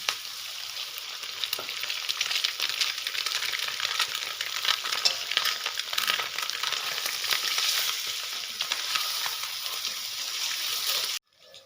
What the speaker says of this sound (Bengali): তেল চড়ে দিছি, হলুদ মাখা ডিমগুলি এখন তেলের মধ্যে ছাড়ি দেবো।